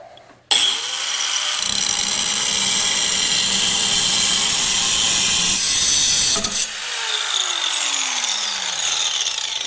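Power tool cutting through a welded-in steel plate on a straight tube, a loud continuous grinding whine lasting about six seconds before cutting off abruptly, leaving fading shop noise.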